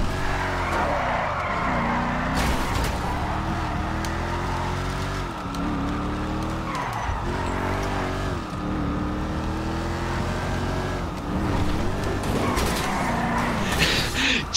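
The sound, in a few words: car drifting with tire squeal in a video game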